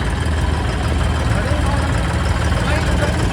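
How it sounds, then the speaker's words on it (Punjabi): Tractors prepared for a sugarcane-juice langar run at idle, giving a continuous low engine drone that stays steady throughout while voices talk over it. "ਟਰੈਕਟਰ ਕਰ ਲਿਆ ਸਾਰੇ ਤਿਆਰ ਫੜੀ"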